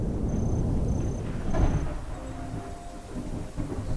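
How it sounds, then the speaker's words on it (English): Thunder rumbles low and heavy through a storm over the Brazilian Cerrado savanna, a dense continuous roll with a swell midway and faint rain-like hiss. "Mid-October, and storm clouds gather over the Cerrado."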